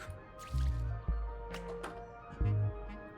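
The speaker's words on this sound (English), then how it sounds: "I am confused, but let's just water it." Watering a plant in the video game Greenhearth Necromancer: soft, quiet dripping and squishy liquid pours in a few separate bursts over a low background music bed, no talk.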